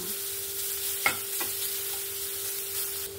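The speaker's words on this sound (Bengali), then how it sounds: "এবার আমি এটাকে হালকা করে একটু ভেজে নেব" A quiet, steady sizzle of bottle gourd greens frying lightly in a pan, with a couple of soft clicks from stirring and a faint background hum.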